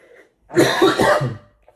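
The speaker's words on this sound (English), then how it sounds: "Sorry, I've got a really bad cough." One hard, rough cough close to the microphone, followed by a short breath, in an otherwise quiet room.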